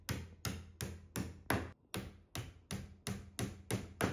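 Sharp, regular taps or knocks sound about every third of a second while furniture drawers are put together at home. They are close, moderately loud and heard alone.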